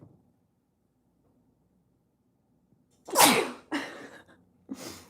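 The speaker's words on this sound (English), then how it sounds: "I just sneeze" A person lets out a sharp sneeze after near silence, followed by a couple of shorter sniffling bursts, close and fairly loud in a quiet room.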